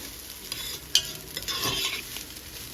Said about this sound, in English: We have fried up the rice nicely.